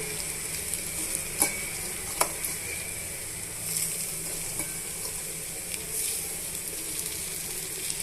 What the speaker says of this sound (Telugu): ఇప్పుడు ఇందులోనే మనం తరిగి పెట్టుకున్నాం కొత్తిమీర కరివేపాకు పుదీనాని యాడ్ చేస్తున్నానండి